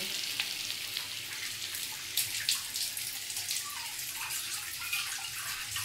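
Water pours steadily into a cooking pot, a continuous bright splashing and hissing stream close by with no talk.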